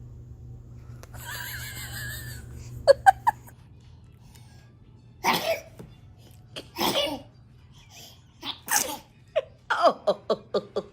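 A baby sneezes several times among quiet stretches, with small sharp bursts near the start followed by louder separate sneezes later, close to the microphone. An adult voice and soft baby vocal sounds occur between them.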